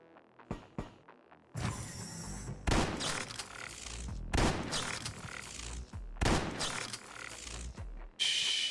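Gunfire in the video game Quasimorph: a few sharp single shots, then several loud bursts of rapid fire with echoing tails, spread across the stretch with short gaps between them and no talking.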